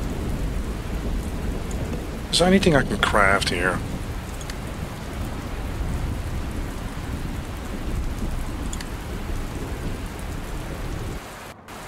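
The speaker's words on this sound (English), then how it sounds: "It's raining like crazy outside." Steady heavy rain pours throughout with low thunder rumbling beneath in the video game Dustland Delivery, and a voice speaks briefly near the start.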